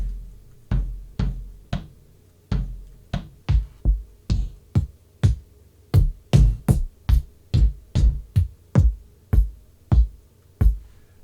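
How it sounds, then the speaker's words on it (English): A series of punchy kick drum samples from a sound library, about twenty separate deep thumps with short pauses between them, loud and close, with no voices. "So I'm just going to search for kick."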